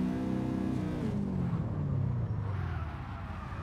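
A drift car's engine revs hard and then winds down in CarX Drift Racing on the Akina course, a loud, close rumble with the pitch sliding lower as it eases off.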